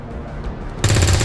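Weapon fire in XCOM 2 erupts suddenly after a quiet moment, a loud, dense burst of shots close up.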